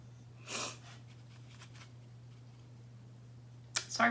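Two sharp nasal sniffles from a person with a runny nose, one near the start and one at the end, close and fairly quiet over a low steady hum.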